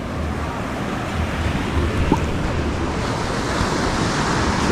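Steady ocean surf at the beach, a continuous loud wash of breaking waves mixed with wind noise on the microphone, with no talk.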